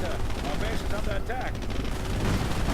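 Artillery fire in a WWII video game, a dense continuous barrage of booms and gunfire mixed under a voice, loud and unbroken throughout.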